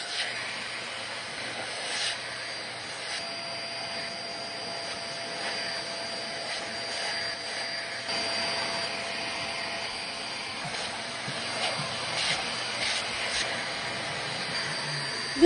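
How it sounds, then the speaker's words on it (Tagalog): Dirma vacuum cleaner suctioning dust during home cleaning, a steady airy roar with a constant whine running throughout, close and continuous, with faint clicks and bumps as the nozzle moves. "Tignan nyo naman kung gaano nakakasatisfy talagang gamitin tong Dirma vacuum cleaner na to."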